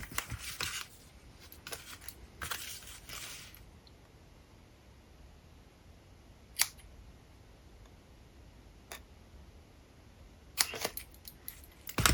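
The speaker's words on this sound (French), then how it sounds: "Il ne reste plus qu'à couper" Paper card for a 3D sunflower greeting card being cut with scissors: a cluster of crisp snipping strokes at the start, then a few isolated sharp clicks and a final short burst of cuts in a quiet room.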